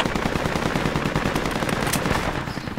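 Sustained, dense machine gun fire in the military video game Project Reality, loud and continuous with rapid overlapping bursts throughout.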